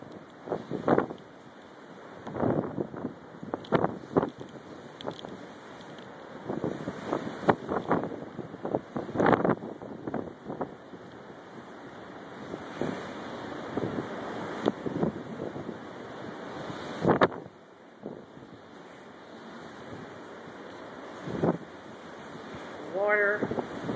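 Hurricane Irene winds roar and buffet the microphone on a deck at Kill Devil Hills on the Outer Banks, with bursts of gusting and water blowing across, loud and irregular throughout.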